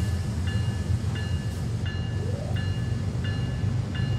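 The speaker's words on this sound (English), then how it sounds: "Gotta love that compressor whoop." An ES44 diesel locomotive's air compressor in the Train Sim World 3 game, a steady low engine rumble with a faint rising whoop partway through and a repeating high electronic beep, no talking.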